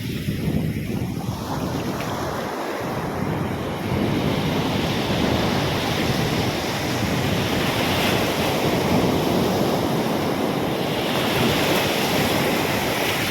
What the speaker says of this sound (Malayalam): തിരമാലകൾ ഒന്ന് അടിച്ച് കയറി അങ്ങ് പോവുകയാണ്